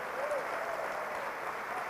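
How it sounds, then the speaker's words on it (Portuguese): Church congregation clapping during a sermon, a steady broad wash of applause throughout the short stretch, with a faint voice briefly audible over it. "Aplauda mais alto!"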